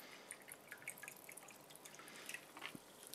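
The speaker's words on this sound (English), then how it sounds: "Let's pour it in the coffee." Pepsi poured into reheated leftover coffee makes faint, close trickling and dripping liquid sounds with small splashes throughout.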